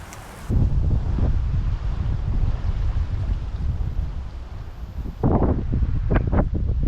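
Wind blowing across a lake at Tyler State Park in Texas, gusting as loud rumbling buffets against the microphone, with small waves lapping near the shore.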